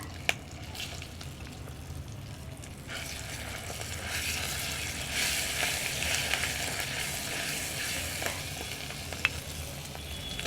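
A spoon stirs fresh tempering into a ground chutney in a pan, with soft sizzling, scraping and wet mixing sounds and a couple of small clinks, fairly quiet and close with no voices.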